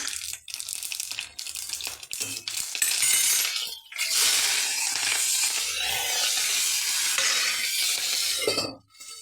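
Mutton keema with garam masala is fried in hot oil in an AMC cookware pot, giving a loud sizzle broken up by scraping stirs and metallic clinks of the spoon against the pan.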